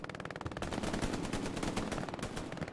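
Rapid machine gun fire from an emplaced MG in Hell Let Loose, a steady fast rattle of bursts running loud and dense throughout, during an 18v18 competitive tournament match.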